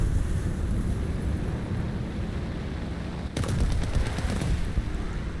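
Aircraft machine guns fire in War Thunder, a J2M2 fighter attacking an enemy Fw 190, heard as steady, dense rattling under continuous wind and engine roar, growing louder and harsher in the last couple of seconds.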